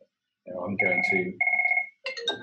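A telephone rings with repeated bell-like electronic tones during an online talk on physical activity and COVID-19, sounding clearly over and between a person's speech.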